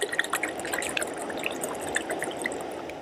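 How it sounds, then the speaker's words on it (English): Half a liter of water poured into a Jetboil stove's pot for a backpacking kit: a steady, splashy stream with bright trickling over it, close and continuous, no talk. "we're going to put a ½ liter of water into that pot and boil it up"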